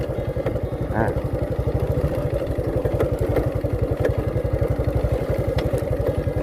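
Motorcycle engine on a rural road in the rainy season, a steady near chugging throb with a brief change around a gear shift, a voice talking over it.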